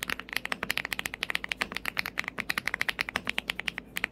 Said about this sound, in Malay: anda dapat satu wireless RGB aluminium mechanical gaming keyboard dengan creamy sound